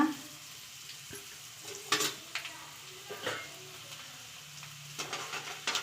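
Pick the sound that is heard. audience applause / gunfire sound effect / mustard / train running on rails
mustard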